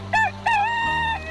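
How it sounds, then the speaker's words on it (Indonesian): A rooster crows at dawn on a hillside, one loud, close call broken into a short first note and a long sustained cry, heard alone over a low steady hum. "ayam jago"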